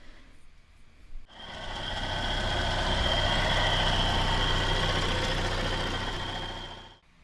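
A Chevy Sonic engine, just jump-started from a dead battery, runs with a steady droning hum and a faint high whine for about six seconds before cutting off, with no talking.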